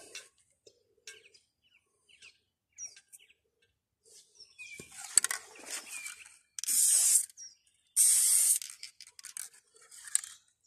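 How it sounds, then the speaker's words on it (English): Short hissing bursts of spray, two longer blasts in the second half, separated by quiet pauses and light rustling, close by. "this is a spray pack, it's not going to be perfect"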